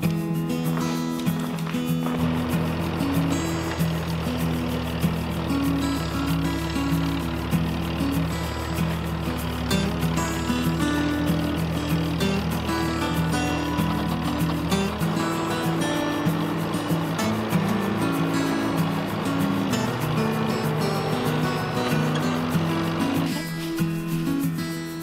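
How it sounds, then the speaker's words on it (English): A farm tractor's engine runs steadily near a barnyard, a continuous droning rumble that shifts pitch partway through and stays loud and even for the whole stretch. "I'm gonna go ahead and get the tractor started up."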